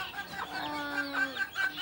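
Domestic village chickens at a Bangladeshi poultry seller cluck in short repeated bursts close by, with a rooster-like call mixed in and people talking over the flock.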